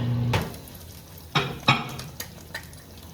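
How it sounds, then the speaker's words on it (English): Eggs fry in a pan with a soft continuous sizzle, punctuated by a few sharp utensil clinks and scrapes against the pan. "As the eggs are frying"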